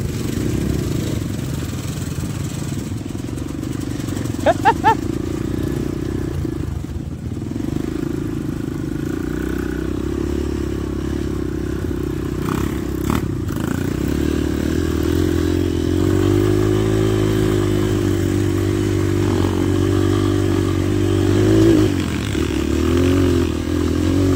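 A big motorcycle with air let out of its tires, stuck near Kinaw Falls, idles and rumbles close by, then revs louder and strains in the second half amid clattering and scraping.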